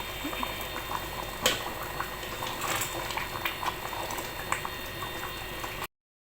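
Aloo bukhara (plum) chutney simmers in a pan, thickening with soft continuous bubbling and small popping pops at a low, close, even level.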